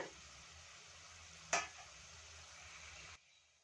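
Onions frying in a pan for ridge gourd dal, a soft steady sizzle with one sharp clink of a utensil partway through before it cuts off.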